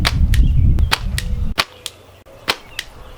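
Slingshot shots land on a target outdoors as sharp cracks, a few spaced snaps after a louder rustling stretch, with a close double hit near the end.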